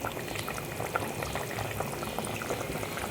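Katla fish curry bubbling at a steady boil in a pot, with a dense, continuous crackle of bursting bubbles and no voices.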